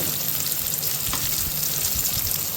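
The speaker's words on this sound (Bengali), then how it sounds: "এখন বন্ধুরা পেঁয়াজটা একটু ভাজা ভাজা হয়ে এসেছে, তারপরে একটু নেড়ে চেড়ে নিলাম।" Onions sizzle and crackle steadily in a hot pan, a continuous close frying hiss with faint stirring scrapes.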